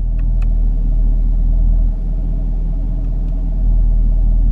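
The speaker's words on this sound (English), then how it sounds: "if you've heard the exhaust move a couple times, because I was pushing those" A 2019 Chevy Camaro 1LE idles in sport mode, its exhaust a deep, loud, steady rumble that dips briefly and then swells again, heard close up from inside the car.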